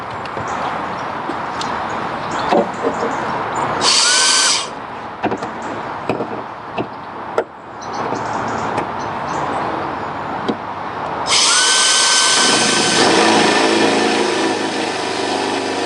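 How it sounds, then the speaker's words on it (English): A power drill with a hole saw, drilling upward into a Land Rover Freelander 2 tailgate, whines in two loud high-pitched bursts, the second longer, amid scattered clicks and knocks. "I'm drilling upwards."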